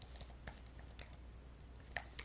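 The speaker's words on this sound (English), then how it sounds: "I don't know if I'm typing it right." Quiet typing on a computer keyboard: a handful of sharp, irregular key clicks spread across a couple of seconds, close and faint, with no talking.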